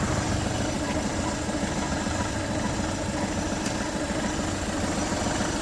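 A Volkswagen Polo 1.2 diesel engine idles steadily nearby, a constant low rumble with a faint knocking texture and no change in revs throughout.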